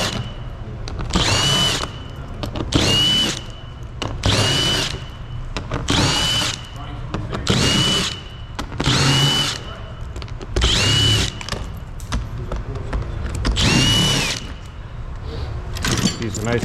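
Power tool driving out bolts during a Honda Prologue high-voltage battery removal, repeated loud whirring bursts of about a second each at regular intervals, close up, with workshop background noise and someone talking between bursts.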